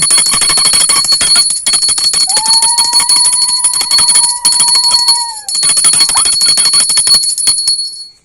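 A loud, continuous bright metallic ringing fills the clip, with a steady tone gliding under it, briefly dropping out once before resuming.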